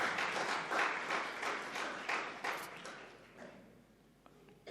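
Audience applause at a public lecture in Hubli, a dense wave of clapping that starts full and thins out gradually over several seconds, heard from within the hall.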